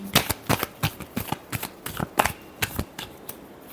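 Tarot cards being shuffled by hand, a quick series of crisp riffling snaps and slaps, about a dozen close, sharp bursts in irregular rhythm with no talking.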